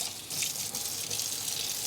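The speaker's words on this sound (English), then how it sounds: "So I am going to try to clean the whisk." A whisk is rinsed under a running kitchen tap, a close, continuous gush of water splashing in the sink without a break.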